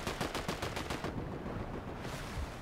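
Rapid automatic gunfire rattles in loud, dense bursts during a video game firefight, with the shots fading into scattered echoing cracks and distant firing.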